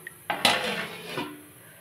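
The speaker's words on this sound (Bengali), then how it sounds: "এখন ঢাকা দিয়ে দেবো" A lid is set onto a pot of pomfret fish curry, making a couple of quick metallic clanks and a short rattle up close, then a quiet settling hum.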